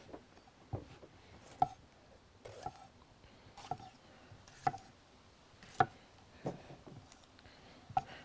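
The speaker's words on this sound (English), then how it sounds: "Again, give it a quick chop." Knife chopping onion and pepper on a board outdoors beside a barbecue, about eight sharp, evenly spaced chops at moderate distance with faint background ambience and no talk.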